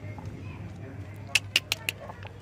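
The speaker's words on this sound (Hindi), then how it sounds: "ये हमारी मुर्गियाँ एंड मुर्गा।" Hens and a rooster cluck in a yard: four quick, sharp calls in a row at moderate distance, set against a low steady hum.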